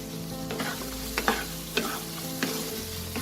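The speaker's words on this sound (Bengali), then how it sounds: "দিয়ে আমি আলুগুলোর সাথে মশলাটাকে আরো একটু কষাবো।" Fried potato pieces stirred through spice paste in a hot pan for an eggplant kofta curry, a steady sizzle broken by a few sharp scraping clatters of the spoon, close and alone with no voices.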